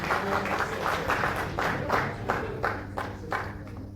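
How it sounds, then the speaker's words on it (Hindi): A hall audience at an award ceremony claps for an honoree walking on stage, steady dense applause with a regular underlying beat of rhythmic claps, loud and close throughout, no speech over it. "जोरदार तालियां बजाकर इनका स्वागत करिए।"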